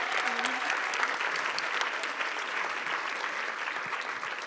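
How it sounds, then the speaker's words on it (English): Sustained audience applause for panelists at a public discussion event fills the room, a dense wash of clapping from many hands, steady and full throughout. "Let's give them a big round of applause as they return to their seats."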